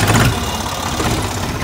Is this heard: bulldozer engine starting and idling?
yes